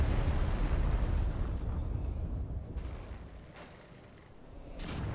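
Deep rumbling explosion from Dark Souls 3 Ashes of Ariandel, a heavy roaring boom that slowly fades and then flares again briefly at the end, with no speech over it.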